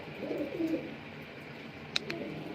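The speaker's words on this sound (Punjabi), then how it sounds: "ਸਾਰੇ ਕਬੂਤਰੇ ਬੈਠੇ ਨੇ ਆਪਣੇ ਕਬੂਤਰ ਬੈਠੇ ਨੇ" Soft, low pigeon coos murmur close by, with a brief sharper click or chirp near the end against a quiet background.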